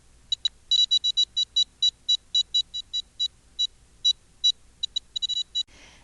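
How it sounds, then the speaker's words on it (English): A DOVE SCENAR therapy device with its electrodes on skin chirps in irregular, rapid high-pitched beeps, some in quick clusters and some spaced apart, clear against a quiet room. "your DAV will start beeping irregularly. We call it chirping."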